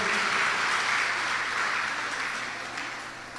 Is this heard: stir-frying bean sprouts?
no